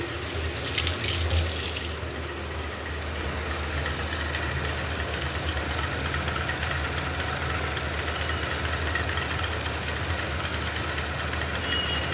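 Tap water runs steadily into a kitchen sink while something is rinsed during cooking, a constant close rushing with a brief brighter splash at the start.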